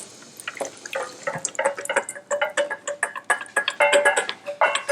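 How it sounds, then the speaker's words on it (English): Cooking liquid poured into a kettle for kettle-cooked pork, heard as rapid irregular splashing and dripping, close and fairly loud, with no talk. "You pour it all in there, Robbie, and stir it through"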